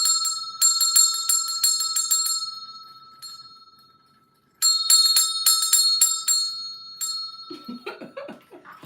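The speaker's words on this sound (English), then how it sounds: "Did you ring it like a school bell?" A bright hand bell rings in repeated bursts of rapid strokes, pausing and fading out before ringing again; faint knocking sounds follow at the end.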